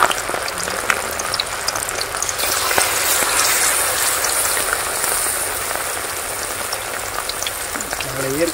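Quail pieces fry in hot oil in an outdoor village kitchen, a dense, steady bubbling sizzle that continues without letup.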